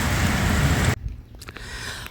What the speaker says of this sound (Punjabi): ਆ ਗਿਆ ਮਿੱਤਰੋ ਮੀਂਹ ਆ ਗਿਆ ਮਾਨਸਾ ਜ਼ਿਲ੍ਹੇ ਵਿੱਚ